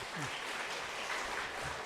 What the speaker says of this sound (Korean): 우리 다 함께 교회 학교에서 박수 한번 합시다